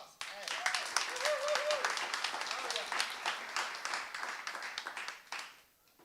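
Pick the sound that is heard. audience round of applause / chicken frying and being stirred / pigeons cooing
audience round of applause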